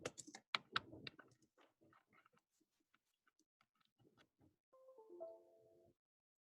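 Quiet, close-up keyboard typing with irregular key clicks, busier at first and then sparser, ending with a brief faint tonal sound.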